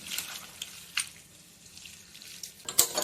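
Tap water runs while leafy greens are washed in a kitchen sink, a soft continuous trickle with brief splashes and clinks, louder bursts near the start and end.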